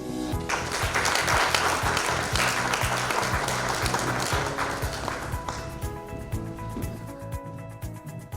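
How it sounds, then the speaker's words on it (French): An audience at a networking day gives a warm, close round of hand clapping with crisp individual claps, staying strong for several seconds before gradually thinning out. "j'aimerais une bonne main d'applaudissements, s'il vous plaît, pour Marie-Ange Jeudi"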